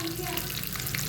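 Sliced onions fry in hot oil for a dal tadka, giving a steady, close sizzle throughout with faint stirring.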